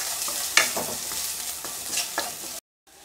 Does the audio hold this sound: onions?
yes